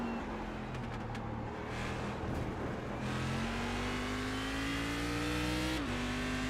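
Indy NXT race car engine in iRacing at Indianapolis Motor Speedway, a loud steady high-pitched drone rising in pitch as it accelerates, with a brief dip near the end like a gear change.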